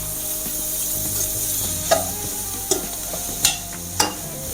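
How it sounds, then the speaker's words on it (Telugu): Onions and fenugreek leaves fry in a pan for a Rayalaseema-style chicken curry: a steady low sizzle runs throughout, broken by four sharp scrapes or clinks of a spoon against the pan. No one speaks. "వేసిన తర్వాత దీన్ని ఒకసారి ఫ్రై చేద్దాం."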